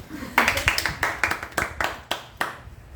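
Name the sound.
class applauding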